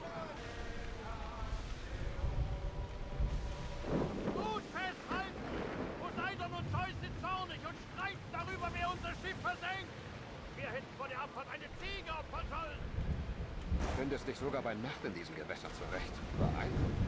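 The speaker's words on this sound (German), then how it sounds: "Hier ist gerade der richtige Sturm ausgebrochen." Stormy sea in Assassin's Creed Odyssey while sailing, steady wind roar and washing waves under someone talking continuously in German, with a louder gust near the end.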